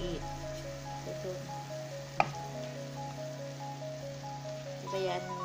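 Sandwich kudu frying in hot oil gives a steady low sizzle that runs under a quiet background with a faint hum. One brief sharp tick comes midway, and the sizzle swells slightly near the end.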